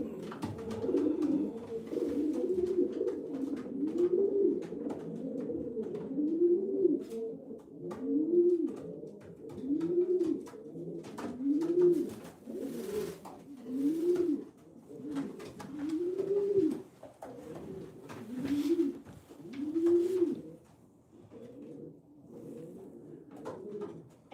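Pigeons in a loft at night give a steady run of rolling coos, one after another in a loose rhythm. The calls are moderately close and soft, with no talk over them.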